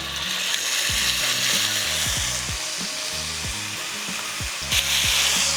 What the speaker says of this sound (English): So we start by adding the chicken skin side down.